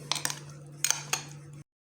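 A spoon stirs coloured tutti frutti pieces through sugar syrup in a dish, giving several sharp metallic clinks and scrapes over a steady low hum, close and clear.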